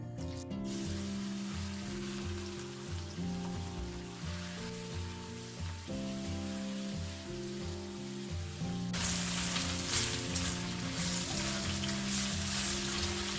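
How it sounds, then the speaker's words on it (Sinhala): About 700 grams of boneless chicken sizzles steadily in hot oil while stir-frying, a continuous crackling hiss under background music that swells louder and brighter partway through. "ඒ ටික දාගෙන අපි ඒක හොඳට ෆ්‍රයි කරගමු"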